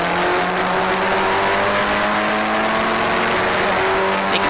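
Historic Formula Ford race cars at Cadwell Park, their engines droning loud and continuous with layered whining pitches as several cars run together in close company.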